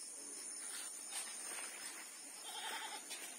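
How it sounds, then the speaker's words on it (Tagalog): Goats bleating faintly near their shelter by banana plants on a family farm at sunset, a few short wavering calls heard at a distance over steady insect and cricket chirring. "Diyan na ipapasok namin yung mga kambing."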